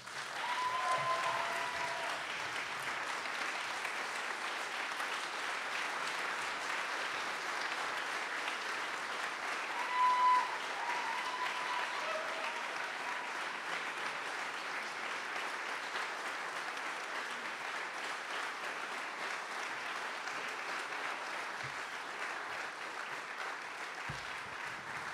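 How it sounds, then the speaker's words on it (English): A large audience at a multifaith Martin Luther King Jr. celebration applauds steadily and at a distance for about 25 seconds, a dense, even wash of clapping with no talk over it. "Can we get one more round of applause for that inspiring, very inspiring speech?"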